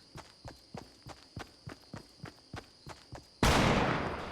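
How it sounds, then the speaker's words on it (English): Player footsteps in Fortnite on Nintendo Switch, a steady run of about a dozen evenly spaced, crisp steps, followed by a sudden loud burst of noise. "the footsteps can be heard clearly, so you can hear where players are approaching from"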